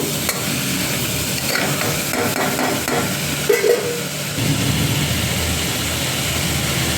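Mixed pulses being stirred in a hot pan while preparing a bamboo shoot sambar, a steady sizzle of frying under repeated scraping stirs, fairly close and continuous with no talk.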